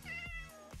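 A Minecraft cat gives a single short meow, close and clear, with no talk over it.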